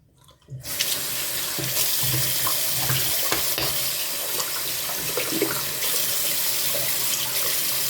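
Tap water runs steadily into a sink while a makeup brush is rinsed, a continuous splashing rush starting abruptly after a brief quiet moment and holding at an even level throughout.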